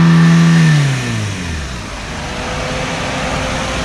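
A used car's engine at a vehicle auction in Patancheru revs hard and then quickly drops in pitch, settling into a steady idle hum that continues close by and fairly loud.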